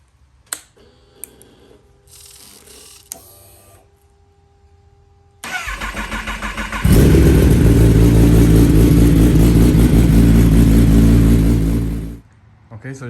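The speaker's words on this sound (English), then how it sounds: "Let's take this first little ride, and I hope this bike rides straight" A rebuilt 2020 Kawasaki ZX10R sport bike starts after some quiet clicks and handling noises, then revs up loudly and pulls away close by, its engine note strong and sustained before dropping off abruptly.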